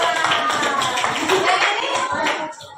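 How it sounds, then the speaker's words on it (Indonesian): A classroom group claps together at a steady, dense rhythm that stays loud throughout and tapers slightly at the end, with children's voices mixed in. "tepuk tangan dong"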